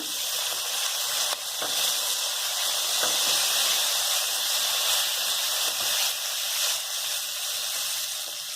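Soy, tomato and red chilli sauces frying in a pan for cabbage manchurian, a steady bright hiss and sizzle running continuously at close range with no talking.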